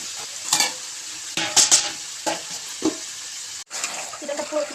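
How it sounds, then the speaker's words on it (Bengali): Chicken being stir-fried and browned in a pan, with a steady sizzle broken by several louder bursts of stirring and spatula scrapes, close and without talk. "চিকেনটা পুরো ফ্রাই কষানো হয়ে যাচ্ছে, আর একটু বাকি আছে।"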